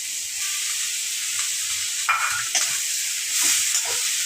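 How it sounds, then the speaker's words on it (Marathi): Grated potato sizzles and fries in a pan with capsicum, a steady close hiss broken by a few scrapes and stirs of the spatula, with no voices. "बटाटा पण छान फ्राय करून घेऊया"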